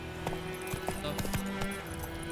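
Horse hooves clopping in a video game, a few irregular hoof beats with a faint whinny mixed over steady game background tones and music.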